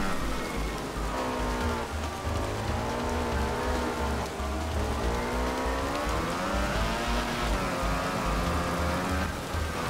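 Steady rain hisses in Valentino Rossi: The Game while a Ducati motorcycle engine drones and shifts pitch underneath, a constant wet wash blended with the rising and falling motor whine.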